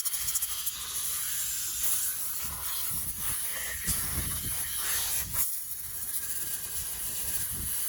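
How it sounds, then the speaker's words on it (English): Compressed air gun hissing steadily as it blows debris off the fuel tank of a 1994 Jeep YJ, a loud, continuous close-up blast with slight fluctuations throughout. "So now I'm gonna blow it with my air gun to make sure no debris go into the gas tank once it's open"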